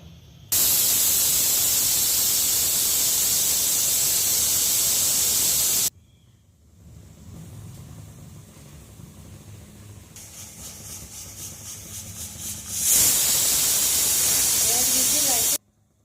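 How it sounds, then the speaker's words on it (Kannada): A pressure cooker whistle blasts loud and steady for several seconds while cooking chicken curry, stops for a stretch of lower hissing, then screams again just as loudly. "ಎರಡು ವಿಸಿಲ್ ಆಯಿತು. ಈಗ ಕುಕ್ಕರ್ ಆಫ್ ಮಾಡ್ತಾ ಇದ್ದೀನಿ."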